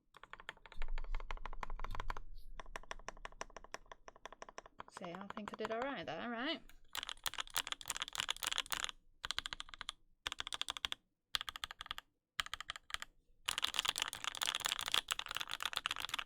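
Rapid typing on a J-01 Rev 1 custom mechanical keyboard with Banana Splits switches and a carbon fiber plate, dense clacking keystrokes in bursts with short pauses, alongside a brief sung or spoken voice.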